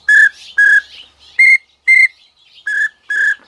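A duck whistle imitates a pintail with six short, bright whistled pips in an uneven rhythm, loud and close with brief gaps between them.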